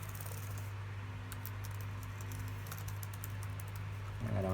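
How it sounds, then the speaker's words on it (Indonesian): Apple A1502 laptop keyboard being typed on during a test after logic board repair, quick irregular key clicks over a low steady hum, ending with a brief bump. "Nah, ini adalah keyboard testnya."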